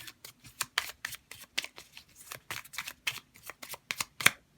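A deck of tarot cards shuffled by hand up close, a brisk rhythmic series of sharp papery flicks and slaps in bursts, with no talking over it.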